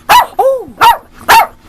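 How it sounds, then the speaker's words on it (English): A dog barks four times in close succession, loud and near, the second bark rising into a brief howl-like yowl, with no voices over it. "he is a barker. He's never barked this much at one time."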